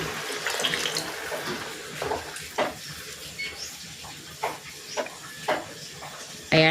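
Water poured from a tap into a cooking pot while making chicken arroz caldo (lugaw), a running splash with intermittent clinks and knocks at close range, brief speech-like sounds in the background.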